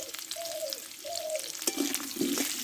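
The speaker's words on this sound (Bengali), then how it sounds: "এবার এই তেলে আমি আলুটা কষে নেব" Potatoes frying in oil in a pan sizzle steadily up close, with a few soft scraping stirs near the end.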